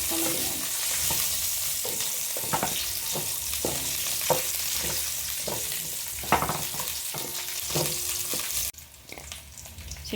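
Whole tomatoes sizzle loudly in a pan for ginisang monggo, a constant frying hiss punctuated by irregular spatula clicks and scrapes, the sizzle dropping off sharply near the end.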